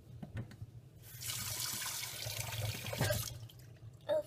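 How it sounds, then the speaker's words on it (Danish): A tap turned on at home runs water steadily for about two seconds, a hissing rush that stops abruptly, surrounded by quiet clicks and handling sounds. "når jeg skal have noget at drikke, og jeg tænder for vandhanen"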